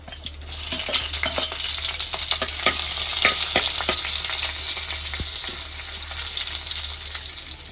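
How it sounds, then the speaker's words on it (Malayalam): Ginger and garlic sizzle steadily in hot oil with fenugreek seeds, with a continuous frying hiss and occasional sharp crackles and stirring taps up close. "നമുക്കിനി ഇഞ്ചി വെളുത്തുള്ളി ഇട്ട് കൊടുക്കാം."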